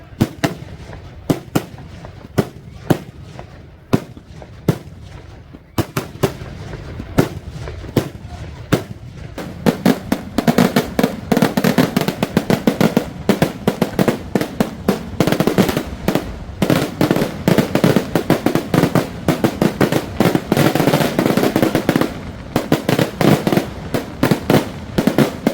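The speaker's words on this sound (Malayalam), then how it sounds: "ഈ പകൽ വെടിക്കെട്ട് എന്നുള്ള ഒരു പ്രത്യേകത കാവശ്ശേരിയിലെ വെടിക്കെട്ടിനുണ്ട്" Daytime fireworks at the Kavassery Pooram festival in Kerala, with sharp firecracker bangs at first and then a dense, rapid barrage of loud explosions crackling close by.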